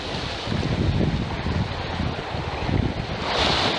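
Ocean waves and wind on a beach in Mexico make a steady, loud wash of surf noise with low rumbling swells and wind buffeting the microphone throughout, with no voices.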